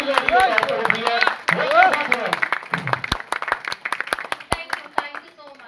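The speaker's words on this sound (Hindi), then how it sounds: "जोरदार ताली हो जाए।" Applause and clapping from a workshop audience on sales and marketing for start-ups, a burst of many hands that thins into scattered claps, heard near and under a speaker's talk.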